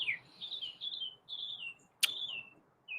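Pet bird Chirpy chirping in short, high, sweeping calls, several in a row with brief gaps and a sharper click partway through; close and fairly quiet, with no talking.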